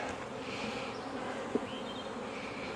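Honeybees buzz in an opened hive, a dense, continuous hum heard close with one small click partway through.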